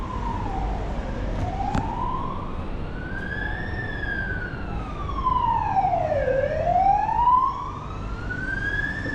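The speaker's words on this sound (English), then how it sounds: "Siren there." A wailing emergency siren sweeps up and down in pitch over steady street noise on Tap Seac Street, Macau, growing louder midway as it passes nearby.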